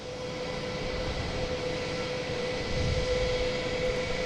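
United Boeing 737 MAX 9 jet at Boston Logan International Airport, a steady loud engine roar with a sustained whine, constant throughout and swelling slightly near the end.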